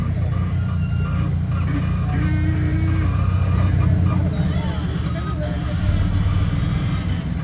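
An off-road vehicle's engine labors up an off-camber climb on an obstacle course while the back tire slides, a loud, constant low rumble that stays steady throughout with faint voices underneath.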